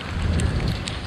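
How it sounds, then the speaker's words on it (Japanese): Heavy rain pouring onto an outdoor futsal court in Shibuya during a sudden downpour, a loud, dense, continuous hiss of drops with no voices heard. "さあちょっと雨が強くなってきましたが"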